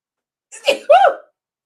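A woman sneezes once up close: a short sharp intake builds into a loud, explosive burst, then silence.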